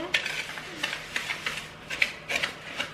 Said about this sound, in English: so now we're gonna get mixing